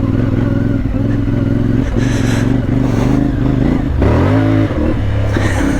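A CF Moto 450 MT motorcycle pulls away in first gear, its engine loud and close with a steady drone, rising in pitch as it revs harder near the end, joined by wind and clatter.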